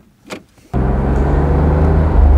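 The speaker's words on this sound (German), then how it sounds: "Ja, das ist eine wunderschöne Probefahrt" A 1985 Mercedes 280 SL R107 in original condition on a test drive, engine and road noise rising abruptly after a brief quiet moment and then holding steady and loud.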